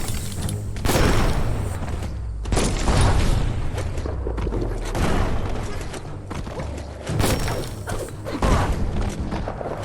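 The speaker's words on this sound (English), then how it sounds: "That's a bomb lobber." Bomb lobber weapon explosions in the video game Biomutant: repeated booming blasts and thuds in irregular bursts over dense, continuous game noise, loud and close with no commentary.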